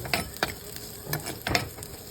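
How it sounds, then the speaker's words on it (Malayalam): Sliced onions for an anchovy curry are stirred in hot coconut oil, with a soft sizzle under four or five quick, close scraping strokes of a spoon against the pan. "ആ സവാളനെ നമ്മളിങ്ങനെ ഇളക്കി കൊടുക്കണം."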